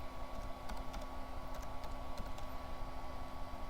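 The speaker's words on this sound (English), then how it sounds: "let's type in the word execute" Rapid typing on a computer keyboard while entering a SQL command, with close, light clicking keystrokes in an uneven rhythm over a steady background hum.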